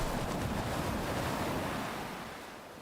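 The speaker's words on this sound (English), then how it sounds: "the water sounds that it makes when it hits, when a log hits water" A log splashing into water in the Valheim video game, heard as a broad wash of water noise that starts strong and slowly fades over a few seconds.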